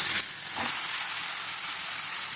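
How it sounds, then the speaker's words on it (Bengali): Shrimp lightly frying in a pan before ash gourd goes in: a steady, close sizzling hiss after a brief clatter at the start, with no talking. "চিংড়ি মাছগুলো একটু ভেজে হালকা ভেজে চাল কুমড়োগুলো দিয়ে দিচ্ছি"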